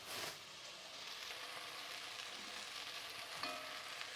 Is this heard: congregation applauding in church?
no